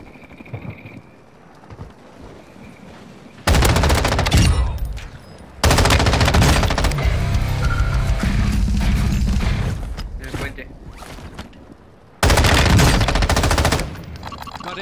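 Loud bursts of automatic fire from an M13 rifle fitted with a compensator in a video game, three heavy sustained volleys separated by quieter stretches, with faint voice chatter between the bursts.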